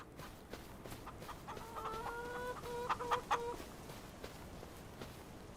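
Chickens clucking in the video game Farming Simulator 25, on the Chipping Norton farm map: a steady run of clear, close clucks and short calls that peaks briefly, with no one talking.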